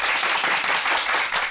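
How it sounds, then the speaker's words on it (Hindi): A crowd claps continuously and densely for a political candidate being introduced, a steady, loud wash of applause with no break throughout. "बजाओ ताली"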